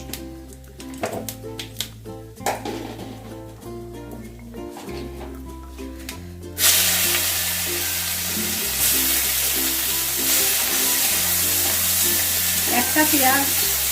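A medium onion drops into a pan of oil tempered with cardamom, cloves and cumin, bursting into a loud, steady sizzle that continues under background music.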